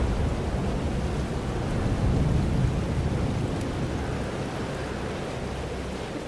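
Thunderstorm in the Life is Strange: Double Exposure video game, a steady roar of heavy rain with low rumbling thunder that swells around the middle, loud and continuous with no voices.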